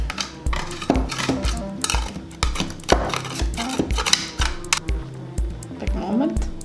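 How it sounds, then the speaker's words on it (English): A spatula running around the edge of a pan holding a cooled bake, with close scraping and clinking in short bursts while a person talks. "I'm just gonna run the spatula all around for easier release."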